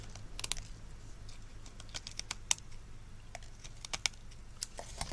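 Sparse, crisp snipping clicks, a few at a time, close up against a quiet background, like scissors trimming paper.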